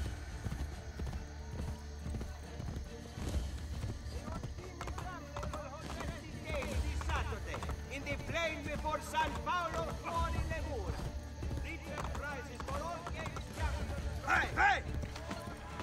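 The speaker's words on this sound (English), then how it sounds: "Ezio, get on the horse." Rhythmic hoofbeats of a galloping horse in Assassin's Creed Brotherhood pound continuously, with game music and effects layered over them and voices speaking at times.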